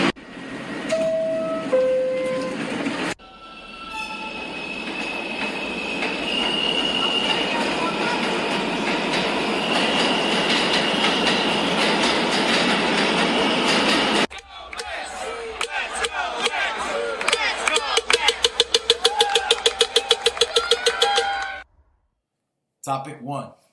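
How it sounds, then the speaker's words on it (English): A Mets Willets Point bound 7 local subway train in motion, a loud steady rumbling roar with rising wheel squeal and rhythmic clatter over the rails, with an automated voice announcing and crowd noise mixed in. "This is a Mets Willets Point bound 7 local train."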